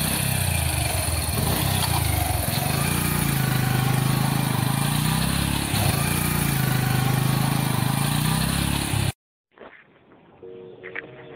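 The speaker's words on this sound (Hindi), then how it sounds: "अरे तू मेरी बाइक पे चला, तेरे को छोड़ता चलूंगा।" Motorcycle engine running steadily and loudly up close for most of the stretch, with slight revving surges, then cutting off abruptly to faint background sound.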